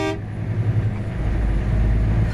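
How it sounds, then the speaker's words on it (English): A truck horn honks from the cab of a big rig in a Walmart parking area, a loud sustained blast over the steady rumble of the idling engine. "I figured I'd honk at him."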